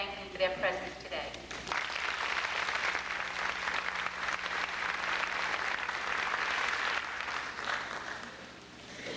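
Audience at a 1998 Staten Island Technical High School graduation ceremony applauding the faculty, a sustained wash of clapping that rises after a speaker's brief words and fades toward the end.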